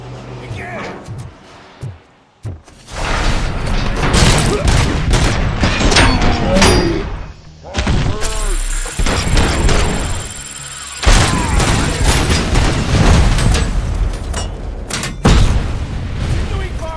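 Heavy sustained gunfire in the RoboCop: Rogue City game, loud rapid volleys and booming impacts filling most of the stretch, with brief pauses between bursts and shouted voices over the shooting.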